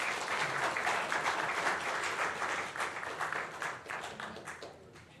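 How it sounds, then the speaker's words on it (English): A conference audience gives a round of applause, a dense, steady wash of many hands clapping that slowly fades over about five seconds. "A round of applause."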